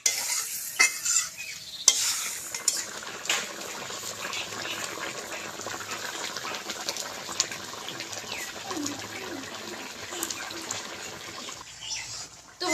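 Fried taro (shola kochu) pieces simmer in curry in a pan, giving a steady close sizzle and bubbling with repeated scraping stirs and occasional clinks of a utensil, and no voices.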